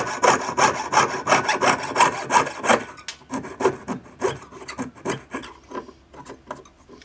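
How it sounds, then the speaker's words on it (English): Raspy strokes of a saw blade turning without cutting while piercing a Celtic design pendant, in a steady back-and-forth rhythm, fairly close, thinning out into lighter scraping passes toward the end, with no voices. "You can hear when I'm turning it that the blade isn't actually cutting."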